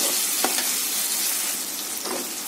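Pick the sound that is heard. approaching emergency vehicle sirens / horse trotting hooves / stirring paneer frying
stirring paneer frying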